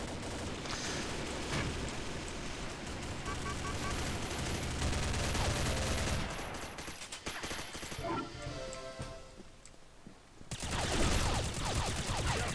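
Video game gunfire from a FAMAS G2 rifle and an M249 Para light machine gun: dense, loud, overlapping bursts rattle almost without a break, dip briefly near the end, then resume.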